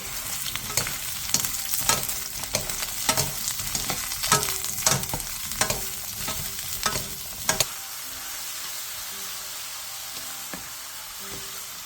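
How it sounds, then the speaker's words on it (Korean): Pine mushrooms fry in oil in a pan over medium heat, a loud continuous sizzle punctuated by quick scraping stirs of a utensil for several seconds before the stirring stops and only the steady hiss remains, close up with no voices. "팬에 기름을 두른 뒤 송이버섯을 넣고 중불에서 볶아주세요."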